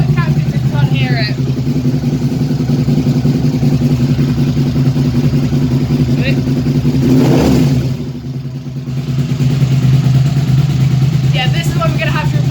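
Loud motorcycle engine running with a harsh, rumbling exhaust that needs replacing, steady idle with a brief rev and dip midway, close to the listener.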